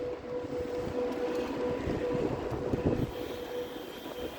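A train rumbles past with a steady metallic drone and a faint wheel squeal, fairly loud and continuous with no voices.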